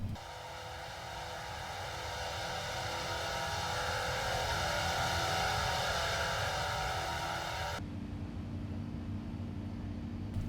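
A Lufthansa A350 airliner climbs out of Zurich in X-Plane 11, a steady loud jet engine drone with layered tonal whine that shifts abruptly to a lower, duller roar near the end.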